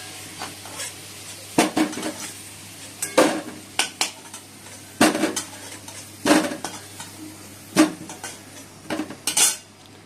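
Fried potatoes are lifted out of a pan with a metal utensil, making sharp scrapes and clanks against the pan in irregular bursts over a low, faint sizzle and a steady background hum.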